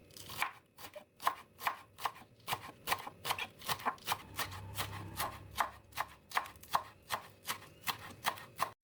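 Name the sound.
chopping spring onions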